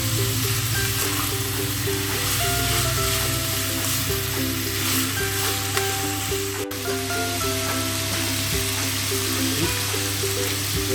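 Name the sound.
pork frying in a pan on high flame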